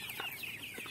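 Free-range chickens kept on a duck farm cluck in a few short, close calls, a steady background hiss beneath them.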